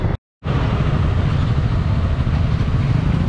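Heavy highway traffic on the Mumbai–Goa highway rumbles continuously around a moving motorcycle, with a loud, close engine and road roar. A brief dropout occurs near the start.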